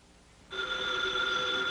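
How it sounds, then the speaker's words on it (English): A telephone bell starts ringing abruptly after a brief quiet moment, a steady bright electronic ring that continues without pause. "there's the phone"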